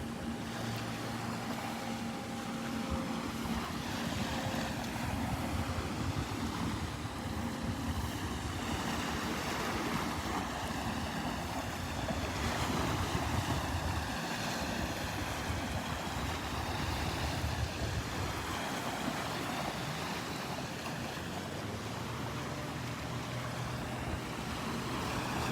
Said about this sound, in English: And the boat traffic's starting to pick up.